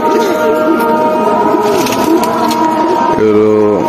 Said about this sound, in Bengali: ফুল সিলভার একটি কবুতর